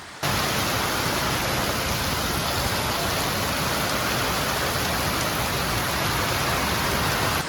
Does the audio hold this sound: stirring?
no